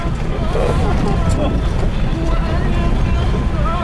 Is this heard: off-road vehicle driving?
yes